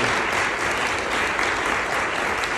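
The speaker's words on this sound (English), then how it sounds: "I want you to just give Dan and Cody a round of applause" Sustained audience applause at an industry event, even, dense clapping from a large crowd with no pauses.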